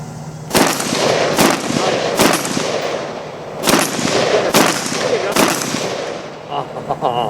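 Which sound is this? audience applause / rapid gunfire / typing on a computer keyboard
rapid gunfire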